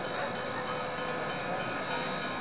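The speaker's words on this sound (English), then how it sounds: "Here comes the train from Workville." A cartoon train rolls in, with a steady, dense rumble and rattle of rail cars continuing loud and unbroken throughout, no voices over it.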